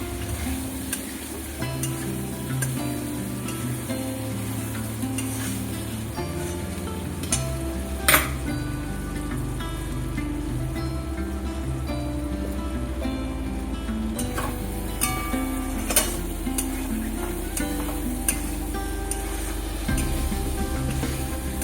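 Green banana kofta masala cooks in oil in a pan with a low, steady sizzle and occasional light clinks of a utensil. Music plays over it throughout, and nobody speaks.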